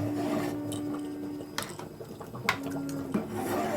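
A ladle scrapes and knocks against a pot while sago is stirred into hot milk for payesh, soft rubbing strokes broken by a few sharp metallic clinks, close and fairly quiet.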